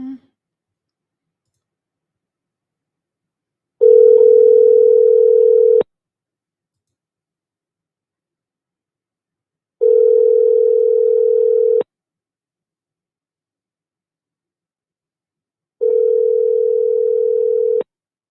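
A telephone call being placed gives three long, steady ringing tones of about two seconds each, spaced evenly several seconds apart, loud and clear against silence.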